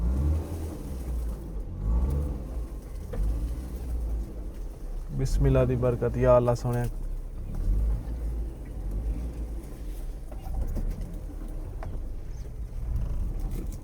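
Car engine rumbling and straining while the vehicle creeps slowly along a rough, bushy, difficult dirt track, with a louder revving burst midway and people talking over the steady low drone.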